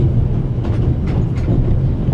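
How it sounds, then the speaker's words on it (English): A steam train with a coal car rolls along in The Raven: Legacy of a Master Thief, giving a loud, steady low rumble with faint rhythmic clatter throughout. "Climbing over the coal car is the only way to get into the driver's cab while the train is moving."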